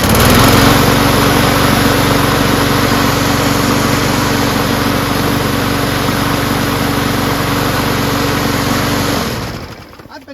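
An MTD push lawn mower engine runs steadily at close range, a loud buzzing drone with a faint annoying rattle, before cutting off and winding down near the end.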